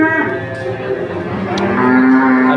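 A large cattle-market bull or cow lets out a long, loud, close moo that rises in strength toward the end, heard alone without speech.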